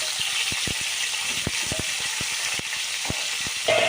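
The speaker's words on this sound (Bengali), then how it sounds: "ওই তেলের মধ্যে আমি পটলটা ভেজে নিচ্ছি দেখো" Pointed gourd frying in oil left over from prawns crackles steadily in a pan, with a series of sharp spatula taps and scrapes against the metal in an irregular rhythm, close and clear.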